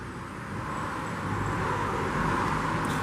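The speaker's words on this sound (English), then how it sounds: "Sorry about the noise, guys. I live in a main road" Steady rumble of passing traffic on a main road, a broad continuous wash of noise that swells slightly, heard from indoors with no talk.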